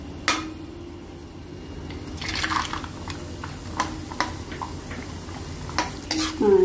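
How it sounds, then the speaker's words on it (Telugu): Cashew nuts frying in hot oil with a bay leaf, cinnamon stick and cloves, a low steady sizzle under sharp clinks and scrapes of a spoon stirring against the pan. "ఇలా జీడిపప్పు గోల్డ్ కలర్ వేగిందండి."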